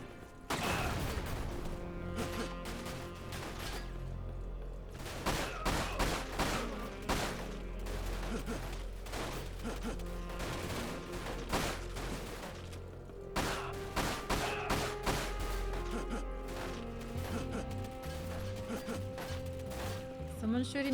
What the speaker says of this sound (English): Someone's shooting me from somewhere